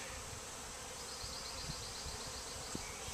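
Honey bees fly around an opened hive during a summer inspection, a dense continuous buzzing drone with a few individual bees passing close to the microphone and nothing else over it.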